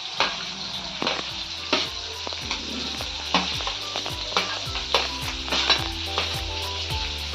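Chopped onion and green chili sizzle loudly in a pan with cumin for an okra dish, a steady close fry cut by sharp spoon clinks and stirring scrapes at irregular intervals, with no voices.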